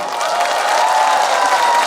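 A large festival crowd at an outdoor beer festival concert in Daedeok-gu, Daejeon, applauds and cheers in a dense, steady wash of clapping that holds loud and unbroken throughout.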